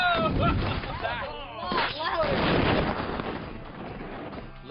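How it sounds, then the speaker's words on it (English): Ten pounds of low-velocity ANFO explosive detonate in a single loud blast, followed by a long rumbling roar and scattered debris that fade over several seconds. "All right, that's 10 pounds of low-velocity explosive ANFO."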